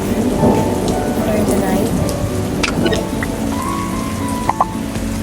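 Heavy rain pours steadily during a night thunderstorm, a dense continuous hiss with faint distant rumbles and a few brief sharp sounds, while a voice speaks briefly underneath.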